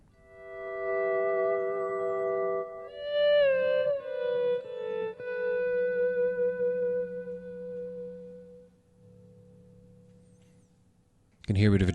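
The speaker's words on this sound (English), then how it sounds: "You can hear a bit of a drone going on in the background of that." A steady low drone hums underneath while a sustained, gliding melodic line plays on top, from a multitrack stem of a song; a brief loud burst cuts in at the very end.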